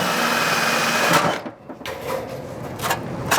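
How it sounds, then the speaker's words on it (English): A spot weld cutter drilling out a spot weld on an MGB front fender panel, a close high whirring grind that briefly breaks off, then resumes in rougher, intermittent bursts. "So this is a specific spot weld cutter."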